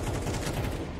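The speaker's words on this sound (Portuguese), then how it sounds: "tá difícil trocar tiro com Exit, ele derrubou dois" Rapid gunfire from the video game Counter-Strike 2 during a MIBR versus Sharks grand-final esports match, a dense, continuous burst of shots lasting about a second.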